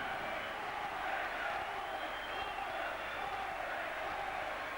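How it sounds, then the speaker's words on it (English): A huge rugby league crowd at Wilderspool roars and chants continuously as Warrington take the field against Bradford, a dense, distant wall of cheering that stays fairly quiet and even throughout. "there's a huge crowd inside Wilderspool for this"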